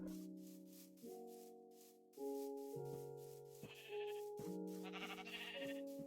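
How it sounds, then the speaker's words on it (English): Sheep in the Minecraft video game bleating, several synthetic, tonal bleats in quick succession, overlapping at moderate loudness with no talking. "Sheeps."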